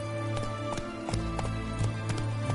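Roach, the horse in The Witcher 3, gallops with a steady run of sharp hoof clops, close and evenly paced over a humming ambient bed, with no talking.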